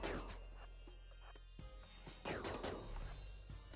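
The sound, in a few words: gunfire in video game RimWorld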